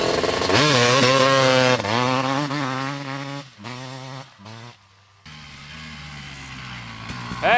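A 1993 Yamaha YZ250 two-stroke dirt bike engine revs hard and loud nearby, rising and falling through several sharp throttle blips before dropping to a rough idle and then revving again.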